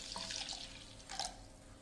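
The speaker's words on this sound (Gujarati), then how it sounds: "એની અંદર પાણી નાખીશું" Water poured from a bowl into a pot holding about 100 grams of jaggery, a short close splashing pour with a brief louder burst near the end, no talking.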